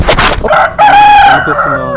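A country rooster on an organic native-chicken farm crows loudly and close by in one long, sustained call after a burst of noise, with a voice faintly underneath.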